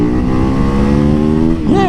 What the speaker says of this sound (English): That's the saving grace, is riding your supermoto out here on these filthy streets of Ohio